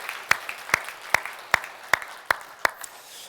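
A church congregation claps together during a Sunday worship service, producing about seven sharp, evenly spaced claps in a steady rhythm at moderate volume, with no speech over them.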